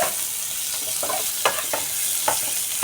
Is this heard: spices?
yes